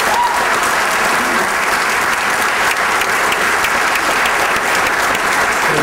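A large indoor audience at a YMCA tribute claps steadily and loudly, a dense, even wash of applause that holds without a break.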